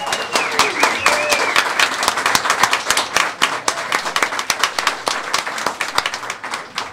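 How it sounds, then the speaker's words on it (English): An audience at a college press conference gives a round of applause, with many hands clapping in a lively, uneven patter close by and some voices and cheering mixed in. "I think we need to give a big round of applause to this great team"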